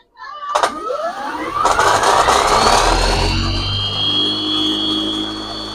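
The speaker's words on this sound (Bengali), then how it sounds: "আমি আবারও মেশিনটা একটু স্টার্ট করতেছি দেখেন" A permanent magnet generator with a three-phase alternator starts up, spinning up with a rising whine that climbs in pitch, then settles into a steady loud running hum and high tone.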